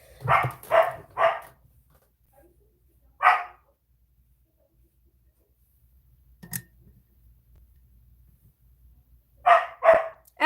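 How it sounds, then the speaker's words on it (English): A dog barks indoors in short bursts: three quick barks, a single bark, then another pair after a long quiet stretch, loud and near. "Off, and also don't bark."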